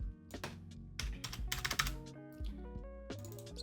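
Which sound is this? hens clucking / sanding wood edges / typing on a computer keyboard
typing on a computer keyboard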